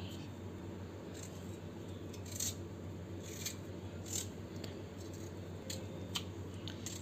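A knife cuts raw green mango into rough pieces, making faint, scattered slicing and scraping taps against a steady low background hum.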